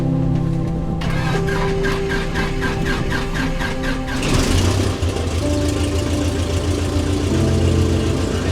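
A Piper Tri-Pacer floatplane engine cranks with rapid rhythmic pulses, then catches at about four seconds and settles into a loud, steady running drone close by.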